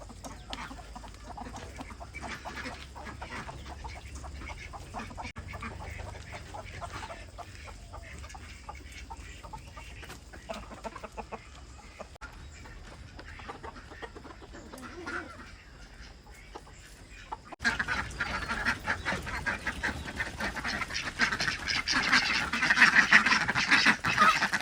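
Ducks and chickens on a farm give faint, scattered clucks and quacks that grow into a louder, busier flock chatter in the last few seconds.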